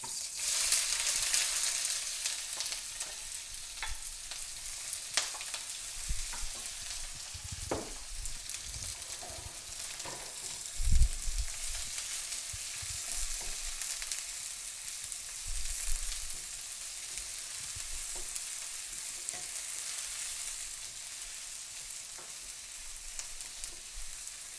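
Chopped onion frying in hot oil at the start of a rice pasta with mushrooms, a steady close sizzle and crackle with occasional stirring knocks, heard alone.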